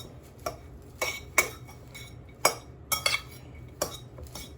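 Coleslaw ingredients are stirred in a bowl, a utensil scraping and clinking against the sides in irregular, fairly close taps with no talk.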